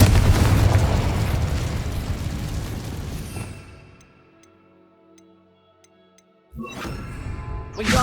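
An Incendio fire spell goes off in Hogwarts Legacy as a loud roaring blast that fades over several seconds into near silence with faint ticking, and then a second sharp burst erupts near the end.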